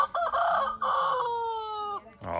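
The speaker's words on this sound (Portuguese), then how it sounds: "Ah, vai cantar o galo." A rooster on a rural farm crows loudly and close by, one long drawn-out cock-a-doodle-doo with a rising start and sustained ending, heard alone with no talk.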